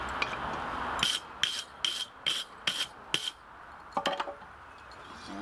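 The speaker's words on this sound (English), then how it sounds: "let's give a struck end a quick brushing" The struck end of a piece of coke is brushed in about six short, rasping strokes, followed by a brief cluster of lighter scrapes. Close and fairly quiet, with no talking.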